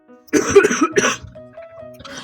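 A person nearby lets out two harsh coughs in quick succession, followed by a quieter throat sound.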